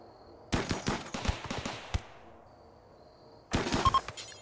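Defensive turrets fire in the RimWorld video game: two sharp bursts of rapid, loud gunshots, a rattling volley for about a second and a half, a pause, then another short burst.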